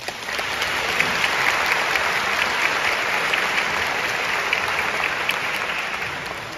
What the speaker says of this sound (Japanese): 拍手してしまいましたね